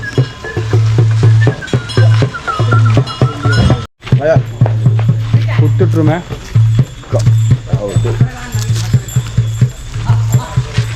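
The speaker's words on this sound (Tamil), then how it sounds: "ஸோ மாட்டு வண்டி சவாரிக்கான மாட்டு வண்டிகள் ரெடி ஆகிட்டு இருக்குது." Bullock cart hooves clop irregularly on the ground as carts are readied for a jungle safari ride in Sri Lanka, mixed under loud, constant nearby talk and a steady low drone.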